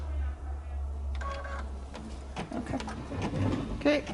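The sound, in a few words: embroidery machine stitching out cake lettering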